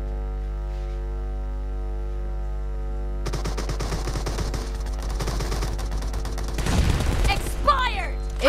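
AK-47 gunfire in a video game comes as a rapid burst of automatic shots, loud and close, over a steady electrical hum. A voice speaks briefly near the end.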